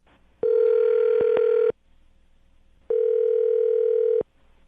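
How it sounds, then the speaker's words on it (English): Two long, steady telephone dial tones, each about a second and a half, separated by a short silence, with a couple of brief clicks in the first. "I'm going to dial his phone number"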